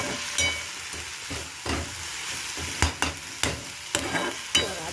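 A curry of drumstick leaves and flowers cooks in a pan over low heat, stirred with a spoon that scrapes and clinks in a series of distinct strokes over a soft ongoing sizzle, close and without talk.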